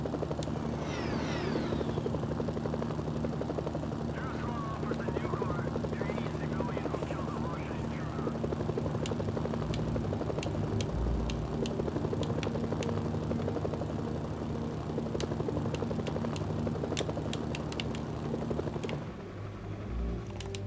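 Helicopter in a video game approaching, a steady loud rotor drone with engine hum sustained throughout, then easing slightly at the very end; a voice or game sounds appear faintly beneath it.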